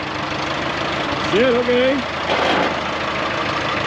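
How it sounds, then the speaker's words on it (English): A 1960 International 460 tractor engine idles steadily and loudly close by, a continuous low rumble throughout, with someone briefly talking over it. "We started the tractor today."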